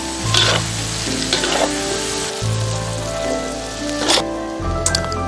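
Twice-cooked pork with garlic sprouts stir-fries in a wok: a continuous close sizzle, broken by several sharp spatula scrapes and clanks at irregular intervals, with no voices.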